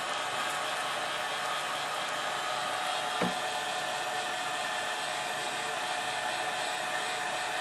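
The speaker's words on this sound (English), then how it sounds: "Notice I'm always moving the heat gun around" A heat gun blowing a steady, even hiss while shrinking plastic wrap around bars of soap, close and unbroken, with a single faint tap partway through.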